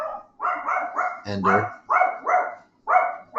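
A pet dog barks in repeated short, loud bursts indoors, close by, roughly six or seven barks in steady succession, with a brief spoken word between them.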